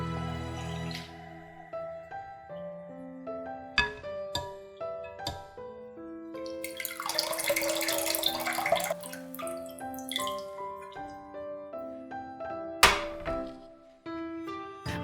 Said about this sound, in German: In kaltem Wasser abschrecken.